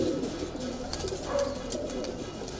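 Cooing from high-flyer kalpare pigeons of an unusual green-coloured breed with small beaks and large eyes, inside a loft in Patna; soft repeated low coos close by over steady background hum.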